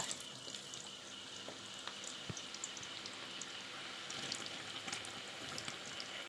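Steady crackling and sizzling of Kerala-style banana chips frying in hot oil, continuous and close, with occasional louder pops and no voices.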